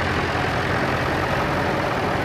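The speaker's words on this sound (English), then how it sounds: "And another of the Ford 3000s." Ford 3000 tractor engine running steadily at close range, a continuous loud low rumble with no pauses or voices over it.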